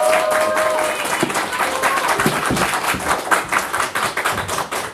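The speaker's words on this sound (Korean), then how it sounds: "다시 한번 큰 박수 부탁드리겠습니다." Applause from the audience at a Seongnam mayoral candidacy press conference, dense close clapping with distinct individual claps and a few thumps, thinning out slightly near the end, with voices underneath.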